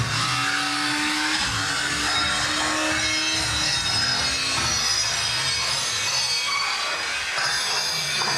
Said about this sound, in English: Don't leave your grinder on with the trigger lock.